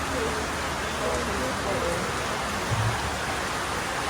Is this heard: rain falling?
yes